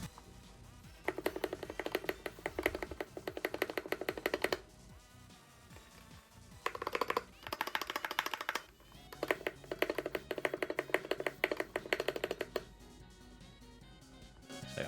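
Keys pressed on a stock Akko 3061S HE gaming keyboard to show off its stabilizers, several bursts of dense, close key taps separated by quieter gaps, with no talking.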